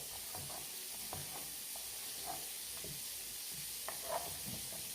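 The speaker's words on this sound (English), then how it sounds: "I'll show you how pretty, quickly, and easy this all fries up" Home fries sizzle steadily in a pan, a continuous bright hiss with scattered crackles and soft stirring scrapes throughout, close and fairly loud with no voices.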